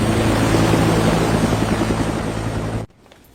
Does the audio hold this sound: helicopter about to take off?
yes